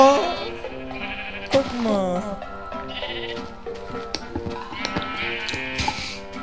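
Sheep bleating in Minecraft, several wavering blocky bleats over a soft background with light tapping, while people talk throughout.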